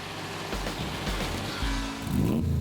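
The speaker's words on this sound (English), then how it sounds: "It has a very nice exhaust note" Exhaust note of a 1963 Jaguar E-Type with a 5-speed gearbox, a deep low rumble that swells in short pulses and climbs as the engine revs up near the end, close and steady with no talk.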